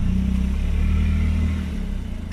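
An automatic Perodua Axia engine runs steadily on a practice ramp as the accelerator is pressed, a loud, close, low droning hum that eases slightly toward the end.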